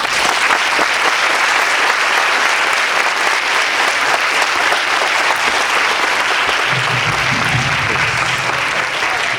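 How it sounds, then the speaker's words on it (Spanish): A large audience at a youth lecture on national identity bursts into sustained, loud applause welcoming a speaker to the stage, dense clapping holding steady throughout with a faint low hum entering near the end. "lo recibimos con un fuerte aplauso"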